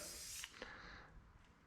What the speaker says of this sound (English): All right, we'll start with SC1 here. I'll just spray it on.